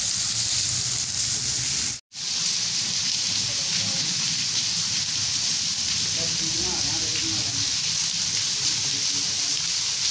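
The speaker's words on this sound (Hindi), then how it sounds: "पानी हमेशा यहाँ चलता ही रहता है।" Continuous rushing water from a temple waterfall pours steadily with a bright hiss throughout, with a brief dropout near the start.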